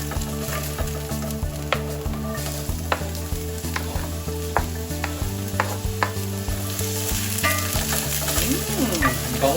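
Garlic and onion sauté in a hot pan with a steady, close sizzle, broken by repeated sharp clicks and scrapes of a utensil stirring against the metal.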